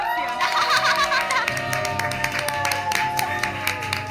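An audience at a church community event breaks into applause, a continuous busy patter of many hands mixed with cheering voices and some laughter, over lingering music.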